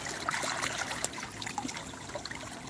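Creek water trickles and splashes steadily over stones close by, a continuous bright babbling with small irregular drips and gurgles, no voices.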